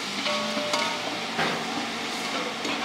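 Whole spices for chicken biryani dry-roasting in a pan, with a soft, low crackle and light stirring scrapes. Everything stays fairly quiet, with no voices.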